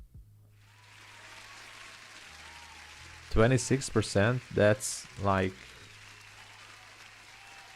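Crowd applause plays as a steady, moderate wash of clapping throughout, with a voice speaking over it partway through.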